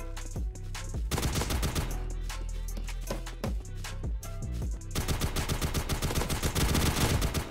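Heavy-ammo gun fired in the Roblox game Tactical Bedwars, sharp repeated shots in short tapped bursts and then denser rapid volleys, loud and close with no talk.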